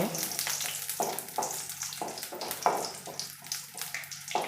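Green chilies frying in a pan of oil for an egg curry, a steady sizzle broken into bursts by stirring or scraping, close and fairly loud, with no talking.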